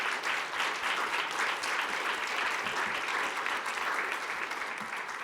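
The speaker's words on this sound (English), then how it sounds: "So, a round of applause," Applause from a conference audience for a health panel at a World Health Assembly session, a continuous even patter of many hands heard at a moderate distance.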